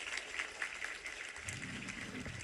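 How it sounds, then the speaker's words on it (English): Conference audience at Stanford Converge applauding the lightning talk speakers, a faint, distant, continuous patter of clapping throughout. "let's get another round of applause for all of our Lightning Talk speakers"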